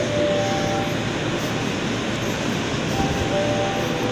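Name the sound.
train at a station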